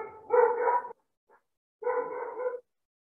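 A dog barks twice indoors, two loud, close, drawn-out barks separated by about a second of silence.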